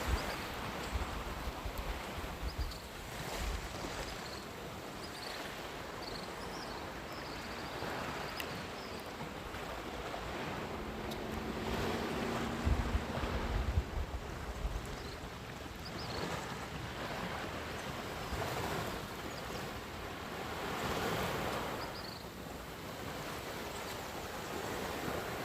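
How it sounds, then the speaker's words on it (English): Ocean waves roll at the beach at Speightstown and Heywoods Beach, a steady wash of surf mixed with heavy wind buffeting the microphone, continuous throughout with no talking. "Just look at this ocean."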